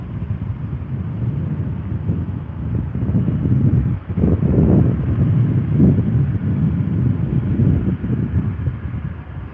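A Boeing 777-300ER airliner roars overhead, its low, steady rumble swelling midway and blending with gusty wind buffeting the microphone.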